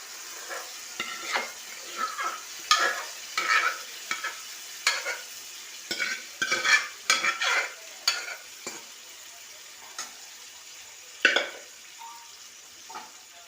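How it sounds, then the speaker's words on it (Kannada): A spoon stirs cooked rice and lentils in a pan for dal khichdi, producing repeated close scraping and clinking strokes with a faint sizzle, in an irregular rhythm that thins out toward the end. "ಈ ಥರ ಮಿಕ್ಸ್ ಮಾಡ್ಕೊಳ್ಳಿ."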